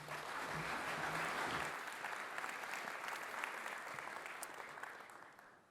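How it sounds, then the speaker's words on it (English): A conference audience at a keynote summit in Sydney breaks into warm applause that holds steady for several seconds and then slowly tapers, faint and somewhat distant. "Please give him a round of applause."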